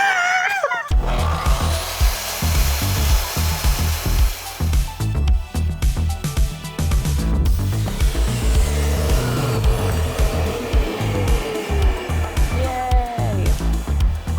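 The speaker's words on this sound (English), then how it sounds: "We are going to cut. I need to get my sawing gear." A power saw cuts through a salvaged wooden door in a creative studio, a loud, rough, continuous rasping buzz that begins abruptly after a brief moment and runs nearly unbroken to the end.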